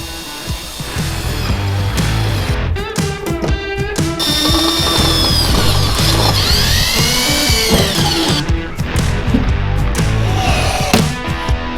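Rivets being set with a power riveter to fasten a trolling motor mounting plate onto a jon boat, with close, loud bursts of tool whirring and sharp metallic clacks and pops, several in quick succession.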